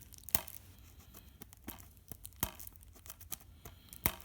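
Packaging of a collector's edition game box being torn open, a series of sharp rips and crinkles in uneven bursts, close up and fairly quiet, with no talking.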